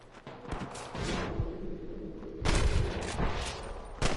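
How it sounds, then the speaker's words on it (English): Bursts of rapid video game gunfire in several volleys with booming low rumbles, loud and echoing, no voices. "I can hear more gunshots."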